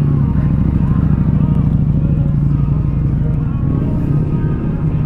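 A Harley-Davidson Sportster S with its new Revolution Max V-Twin engine rumbles loud and close, running steadily at a deep idle with no pauses.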